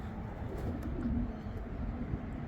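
Racing pigeon back at the loft, giving low soft coos in a few short bursts against a faint steady outdoor hum.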